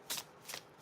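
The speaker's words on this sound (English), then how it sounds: "as I shuffle the cards" Tarot cards shuffled by hand in two quick riffling bursts, close and fairly quiet, with a short pause between them and no talking.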